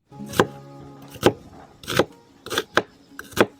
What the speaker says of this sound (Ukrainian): Цибульку нарізаємо кубіком, але крупним.